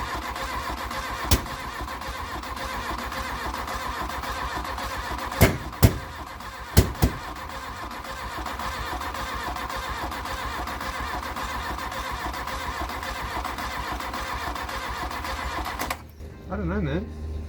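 An Mk1 Volkswagen Golf, recovered from a paddock after sitting, cranks on its starter in a long, steady, rhythmic churn that never catches, with a few sharp clicks partway through, before the starter stops and a voice speaks briefly.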